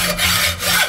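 A hand saw cuts back and forth through a threaded metal part clamped in soft vise jaws. Two or three quick, close, raspy strokes are heard in under a second.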